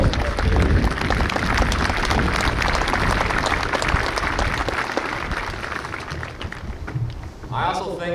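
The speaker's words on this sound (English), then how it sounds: "Please join me in a round of applause" Dense, sustained audience applause at a military class graduation ceremony for BLC Class 04-20, loud and full throughout before gradually thinning toward the end.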